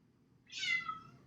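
A small cat gives one clear, drawn-out meow at moderate distance, rising then falling, over a faint low background hum.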